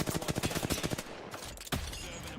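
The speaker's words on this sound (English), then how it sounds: "Opening fire." Rapid bursts of gunfire in a battle-royale video game, a fast string of evenly spaced shots in the first second, a dense crackling barrage, then a sharp louder burst near the end, with no talk over it.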